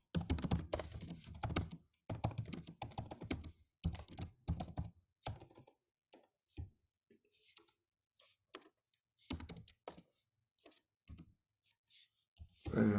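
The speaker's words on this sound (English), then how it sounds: "I can't talk and type at the same time." Someone types on a computer keyboard in quick bursts of clicking keystrokes separated by pauses, close and clear, with a few louder key thunks.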